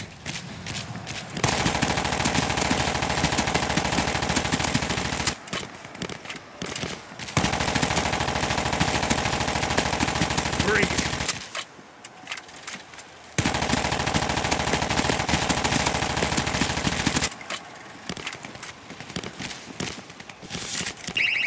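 An auto turret in World War Z: Aftermath fires long, loud, rapid-fire bursts of gunfire, broken by short gaps, each burst going on for several seconds.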